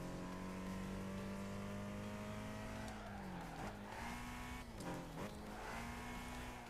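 Race car engine in Gran Turismo 5, a loud, steady, droning hum whose pitch dips twice as gears shift and then climbs again under acceleration.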